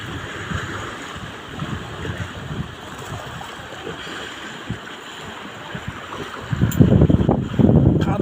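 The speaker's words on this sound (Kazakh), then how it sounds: "Міне Каспийдің толқыны жағаға соғып жатырған жайы." Caspian Sea waves breaking on the shore near Kendirli in Mangystau, a low rolling wash under wind buffeting that builds into louder surging crashes toward the end.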